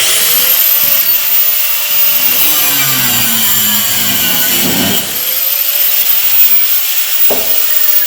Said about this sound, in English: let's get a hacker shacker tool, aka a whiz wheel, and cut them off